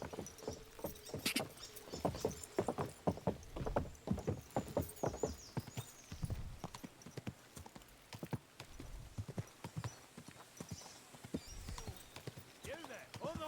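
Horse hooves clip-clopping in the video game Kingdom Come: Deliverance 2: a brisk, irregular run of sharp hoof strikes, close and fairly loud, slowing toward the end, with brief voices.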